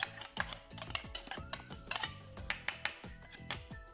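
Repeated scraping and clinking of a metal utensil stirring sesame seeds dry-roasting in a hot pan, irregular quick strokes up close, with small dry rattles between them.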